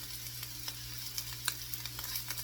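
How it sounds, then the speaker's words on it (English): Mushrooms fry in a pan for an omelette, a soft, steady sizzle with scattered small pops and crackles, close and quiet over a low background hum, with no talk. "I want my mushrooms to be fried a little bit, you know, some brown on the bottom."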